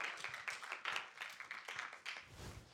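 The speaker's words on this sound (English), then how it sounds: "Can we have a round of applause for Jensen for helping us out?" Scattered clapping from a small audience in a university lecture hall, a brief uneven patter of individual claps, fairly faint and thin, fading out after a couple of seconds.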